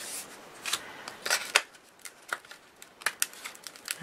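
Scissors snip paper in short, crisp cuts for fussy-cut paper pieces of a mini album, irregular clusters of close, light clicks and rustles with no talking.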